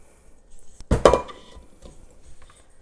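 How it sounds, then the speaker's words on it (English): Vegetables dropped into a cooking pot over browned beef and onion, a quick cluster of clattering, knocking thuds against the metal pot, close and alone, then fading to quiet. "In goes my vegetables."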